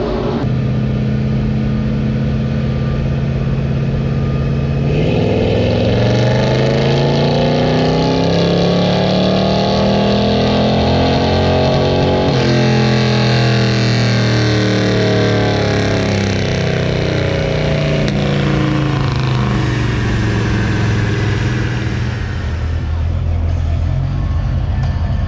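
A truck engine runs hard on a trailer dyno at a C10 truck show at Texas Motor Speedway, a loud continuous roar that rises and falls in pitch as it revs up and eases off.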